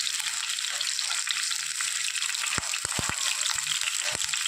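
Shallots and dried red chillies fry in hot oil for a cassava erissery, giving a steady dense sizzle with a few sharp crackles and pops near the end, close and continuous.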